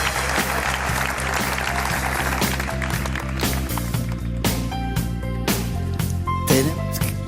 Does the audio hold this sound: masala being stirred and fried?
no